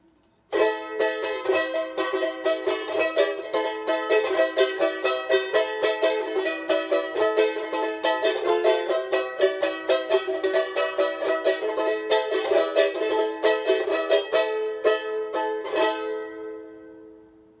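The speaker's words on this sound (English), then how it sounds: "The sound box is an armadillo shell and sounds like this." A charango with an armadillo-shell sound box is strummed for about sixteen seconds in bright, rapid, ringing chords, close and loud, then left to decay into silence at the end.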